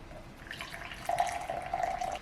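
Water is poured into a linseed bread mixture, a short trickling, splashing stream that grows a little louder partway through and runs steadily without talk.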